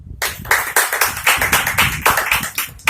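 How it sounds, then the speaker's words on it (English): An audience applauding a speaker with steady, dense clapping that continues throughout, loud and close, with no voices over it. "please, I am requesting you all to have a great round of applause for Mr. Vikram sir."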